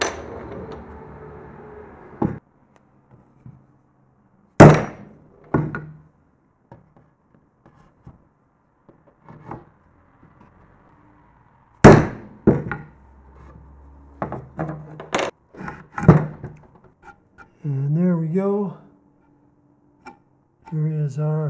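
Several sharp metallic knocks of a drill bit being hammered into a wooden post-and-beam timber for a mortise, spaced irregularly with quiet pauses and a few lighter taps between.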